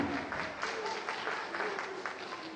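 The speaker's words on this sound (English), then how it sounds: "Get a massive round of applause." An audience at a live stage show claps in a soft, steady patter, faint and somewhat distant, with no voice over it.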